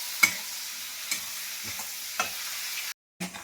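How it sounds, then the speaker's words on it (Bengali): A spatula scrapes through capsicum in a frying pan in regular strokes about every half second over a soft sizzle. A short silence follows before the stirring resumes. "দিয়ে আমি একটু নেড়ে নিই ভালো করে"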